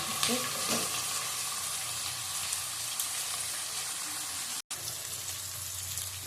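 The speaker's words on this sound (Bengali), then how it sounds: "ইঁচড়টা ভাজা হয়ে গেছে" Raw jackfruit frying in oil in a pan, a steady close sizzle with occasional stirring scrapes and a brief break near the end.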